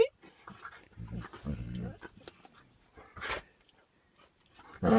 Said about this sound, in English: the dogs are down there wrestling